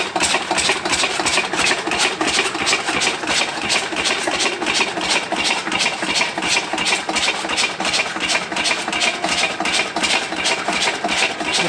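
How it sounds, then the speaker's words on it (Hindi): A diesel Lister engine, a Field Marshal-type 8 hp unit used for chaff cutting, runs steadily after a kick start with a loud, even thumping rhythm close by, without any talking. "देखो, एक किक में स्टार्ट हो गया डीजल लिस्टर इंजन।"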